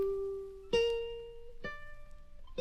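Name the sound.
original recording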